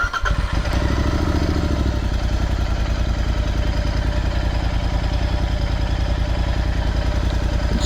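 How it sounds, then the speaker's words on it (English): A Royal Enfield Interceptor 650 fitted with a Powerage exhaust, Fuel X Pro and NGage air filter cranks up and settles into a steady, throbbing twin-cylinder idle, close and loud with an even pulsing beat throughout. "let me crank the bike now and"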